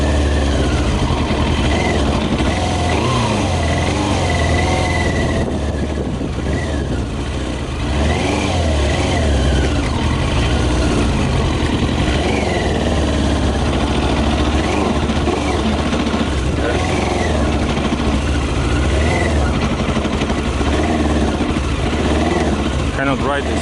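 A Yamaha motorbike running on whisky in the tank, its engine droning steadily and sounding weak and short of power, continuous for the whole stretch, with voices mixed in.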